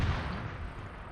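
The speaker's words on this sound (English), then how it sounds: "Oh, they just heard mortars." Mortar shells land in the 7AD campaign war game set in the North African desert during Operation Crusader, a low rumbling blast that rolls and fades over about a second, moderately loud, with no talking.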